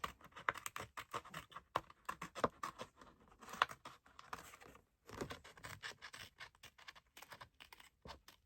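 Scissors snip around an eyebrow tattoo sheet in a quiet room, making a run of crisp, close cuts and rustles of paper with a brief pause midway, then more detailed snipping.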